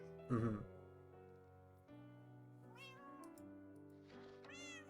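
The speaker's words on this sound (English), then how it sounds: "Who named these cats?" Cats meow repeatedly in Minecraft with the Cobblemon mod, a loud close cry followed by several long, drawn-out wavering meows over a sustained musical background.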